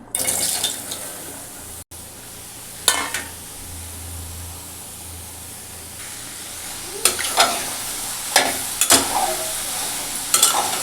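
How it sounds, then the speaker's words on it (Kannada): Bottle gourd stir-fried in a pan for a palya, with a soft continuous sizzle under a series of sharp spatula scrapes and stirs that come in clusters, loudest toward the end, close up and without talk. "ಈ ಕಡೆ ಸೋರೆಕಾಯಿ ಹುರ್ಕೋತೇನೆ."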